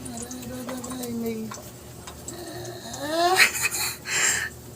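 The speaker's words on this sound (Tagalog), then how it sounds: "Tunog na yan to Di ba guys? Luto ng hotdog." Hotdogs frying in a pan at home, a soft, continuous sizzle close by, with a clink of a utensil, while people talk over it.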